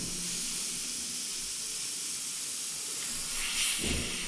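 Airbrush spraying paint onto a Baby Franky figure, a steady close airy hiss throughout with a brief louder burst near the end, no voices.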